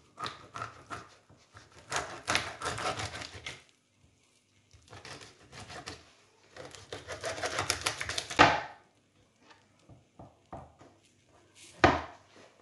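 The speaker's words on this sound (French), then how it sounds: "je vais déjà lui couper la tête à ce brave petit poisson." A knife chops through the head of a sea bass on a cutting board in bursts of crunching, scraping cuts, with near, sharp strokes, brief pauses between them and a few isolated knocks at the end.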